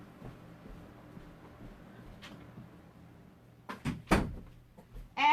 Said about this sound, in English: I'm going to shut my craft room door